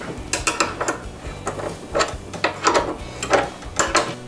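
Metallic clicks and ratcheting from bolts being tightened on the handlebars of a Cobra M51SPC lawn mower, a series of short, close, irregular bursts with no talking.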